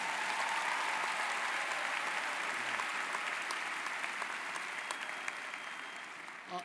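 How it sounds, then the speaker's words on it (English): A large audience at a university commencement ceremony applauds steadily, a dense wash of clapping that holds for several seconds and slowly tapers off. "Let's give them a round of applause."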